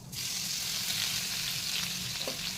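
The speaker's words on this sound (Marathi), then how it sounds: "जिरे मोहरी तडतडले की लसूण घालायचे." Garlic sizzling in hot oil with crackling mustard and cumin seeds, a steady, loud frying hiss that fills the whole stretch without talk.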